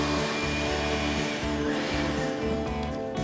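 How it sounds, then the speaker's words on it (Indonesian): An electric blender whirring steadily as it blends pandan leaves with water, a loud continuous motor drone with slight wavering in pitch and no talk over it. "Mari kita blender deh."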